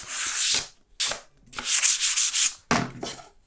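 Rough, scratchy sandpaper rubbing on a wooden panel for oil painting in several quick back-and-forth bursts, close up, with short pauses between strokes.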